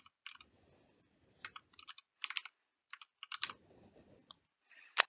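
A username being typed on a computer keyboard: scattered bursts of crisp key clicks with short pauses between them, ending on a sharper, louder tap.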